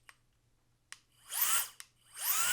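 A rechargeable electric air duster blasting at high pressure gives two loud, close whooshing bursts that rise in pitch as the motor spins up, each set off by a sharp switch click, with a steady low hum beneath.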